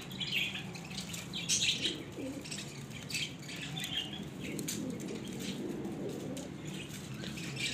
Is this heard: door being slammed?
no